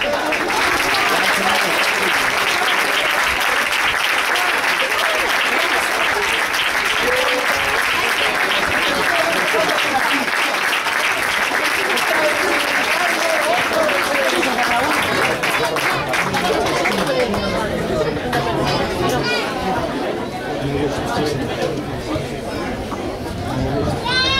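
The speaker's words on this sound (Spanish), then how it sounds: "Un forte aplauso para eles." A crowd at a football club's season presentation applauds loudly and steadily, with voices chattering through the clapping and the applause thinning near the end.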